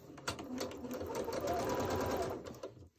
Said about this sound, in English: Sew that little guy.